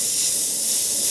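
An airbrush sprays paint in one continuous, even hiss, close and steady for the whole moment with no talking.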